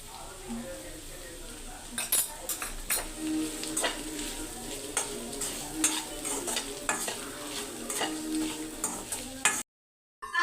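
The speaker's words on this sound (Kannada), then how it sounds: "ಬೆಂಡೆಕಾಯಿ ಎಲ್ಲ ಚೆನ್ನಾಗಿ ಫ್ರೈ ಆಗಿದೆ" Okra frying in a pan for a curd okra sambar, stirred with a spoon that scrapes and clinks against the metal in an irregular rhythm over a steady sizzle, close and moderately loud, ending in a brief silence.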